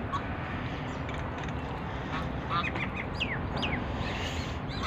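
A few faint duck calls sound over a constant background hiss, scattered and somewhat distant, at a wildlife bird sanctuary in winter.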